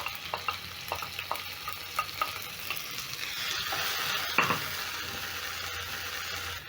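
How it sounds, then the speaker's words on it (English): Two diced tomatoes stirred into browning onions in a pan, with quick spoon scrapes over a bubbling sizzle that swells louder and denser midway, close up and without speech. "Stir in the tomatoes"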